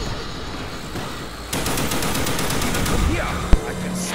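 Twin HK guns in Black Ops zombies fire a steady rapid-fire stream of shots that starts partway in and keeps going, with one sharp louder crack near the end.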